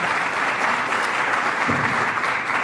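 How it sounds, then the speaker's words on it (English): Sustained audience applause at a Federalist Society event in Philadelphia, a dense, steady clapping from a large crowd that fills the whole stretch at even loudness with no talk over it. "give Gene a round of applause"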